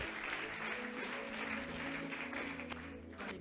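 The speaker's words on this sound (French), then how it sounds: "Clap your hands if you're getting me." An audience claps hands during a church sermon, a continuous crowd of applause holding steady through the whole stretch and tapering slightly at the end, without speech over it.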